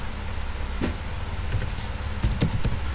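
A computer keyboard is tapped out in a short, uneven run of light clicks as a command is typed, fairly close and over a steady background hum, with no talking.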